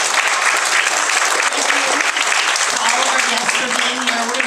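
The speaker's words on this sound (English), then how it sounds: "let's give one more round of applause to the third storytelling series at the Blue Summit." An audience at a storytelling series event applauds loudly and steadily, dense clapping filling the room throughout with a faint voice showing beneath it.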